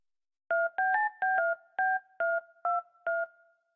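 Eight short telephone keypad tones beep in quick succession, each a clean dual-pitched chirp separated by brief pauses.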